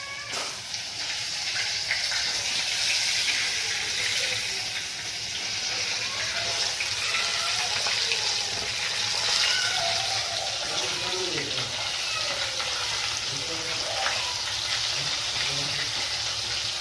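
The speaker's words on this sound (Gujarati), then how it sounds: "પાણી નાખી દે, બહુ જાજુ નથી નાખવાનું" Water is poured into a cooking pot holding potatoes and turmeric, giving a steady gushing, sizzling hiss that runs unbroken and close, with faint voices in the background.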